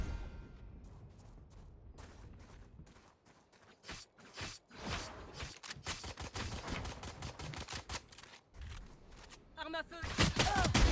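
Rapid bursts of gunfire from the game Valorant crackle in sharp clustered volleys, loud and close, with brief quiet gaps and a reload-like clatter near the end, under a player's voice speaking.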